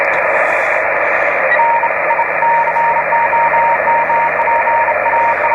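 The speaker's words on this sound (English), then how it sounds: "More Morse code." Morse code received on an amateur radio band: a fast, steady train of keyed beeps sitting over a continuous wash of loud receiver noise, with no talking.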